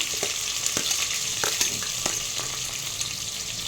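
Onions and green chilies fry in a pan with a continuous near sizzle, and scattered clicks and scrapes of stirring run through it, with no talk.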